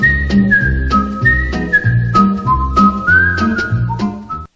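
The closing theme of The Andy Griffith Show, whistled over a low plucked bass-and-rhythm accompaniment in a steady bouncing beat, close and full, ending abruptly, with no speech.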